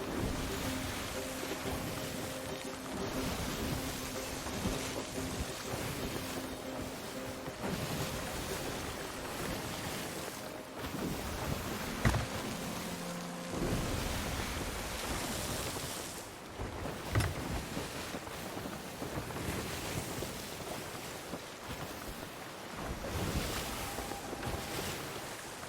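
A sailing ship in Sea of Thieves ploughs through ocean waves, with steady rushing surf, sloshing water and wind buffeting throughout, creaks and occasional thuds from the vessel, and no talk.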